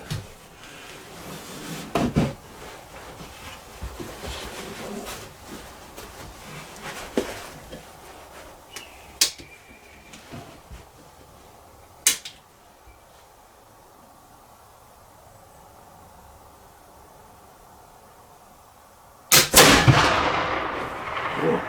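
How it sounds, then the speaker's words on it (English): A Tennessee poor boy black powder muzzleloader loaded with a 70-grain Goex charge hang-fires, with several sharp reports and clicks spread out over a quiet stretch, then a loud, roaring discharge near the end. "That was a hang fire. Big time hang fire."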